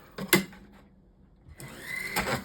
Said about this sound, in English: find my little hole, drill, and drill a hole